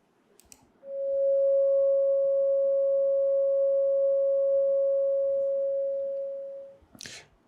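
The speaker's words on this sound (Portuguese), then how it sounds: "Vamos escutar primeiro a onda senoidal" A pure, steady electronic sine wave tone holds at one pitch for about six seconds, loud and clean, fading slightly before a click at the end.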